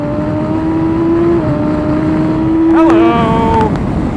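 BMW S1000XR motorcycle engine rising in pitch as it accelerates, a strong steady drone with a quick upward sweep near the end, heard from the rider's position with wind noise and under talk.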